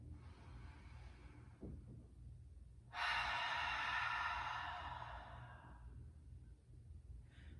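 Ujjayi breathing: a soft whispery breath through a constricted throat, a faint intake, then one long, loud, rasping exhale close up that trails off after a couple of seconds.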